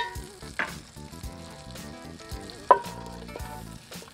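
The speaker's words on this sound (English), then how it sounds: "to actually cook the zucchini in these juices" Zucchini sizzles steadily in steak juices and maple garlic butter in a cast iron pan, with close, continuous frying and a few stirring scrapes and clinks.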